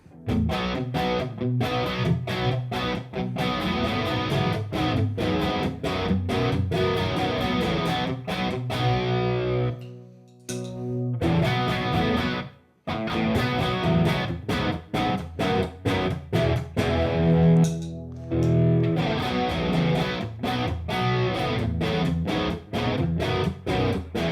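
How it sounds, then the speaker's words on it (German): An electric guitar plays through a Nobels CHO-MINI chorus pedal with a distortion pedal in the chain, producing loud, gritty strummed chords with a wavering shimmer, broken by two short pauses around the middle. "Wir sind auf der zweiten Choruseinstellung, Verzerrer dahinter."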